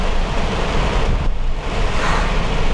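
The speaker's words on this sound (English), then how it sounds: "That's a thunder shower, that's for sure." Heavy rain from a thunder shower pours down over a driving vehicle, a dense, steady roar of water and wind noise that fills the whole clip without letting up.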